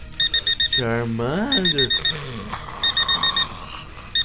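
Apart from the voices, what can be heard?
alarm clock ringing in Minecraft video game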